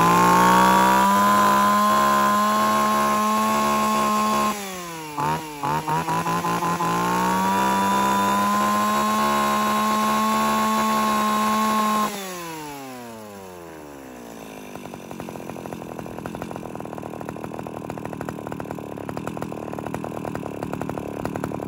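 A used Japanese chainsaw is test-started and runs as a loud, high buzzing two-stroke engine. It dips briefly in revs, then winds down after about twelve seconds into a low rattling idle, with no talk.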